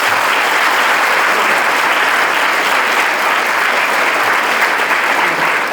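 A school audience at Jai Saradha MHSS claps together in a loud, dense, sustained burst of applause that holds steady throughout, close and unbroken.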